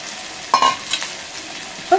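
Dry fish and small shallots sauté in a pan, giving a soft, steady sizzle with a couple of brief stirring scrapes close by.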